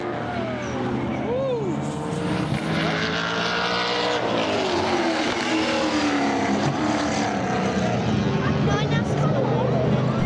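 A turbocharged Mazda FD RX-7 race car lapping the Taupo circuit in a Superlap event, engine note rising and falling through gear changes, loud and continuous, with other track noise mixed in.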